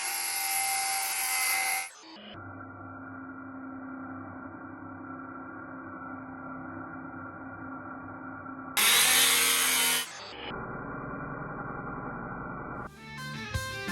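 A sheet of plywood being cut with a power saw during a house build: a loud blade run, then a long steady cutting drone, a second loud burst and more cutting, with no talking.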